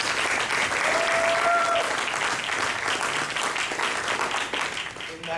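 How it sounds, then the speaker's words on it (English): An audience at a business panel event applauds steadily, a dense wash of clapping that holds evenly and then begins to thin toward the end, with brief voices mixed in. "please give a round of applause to Magda."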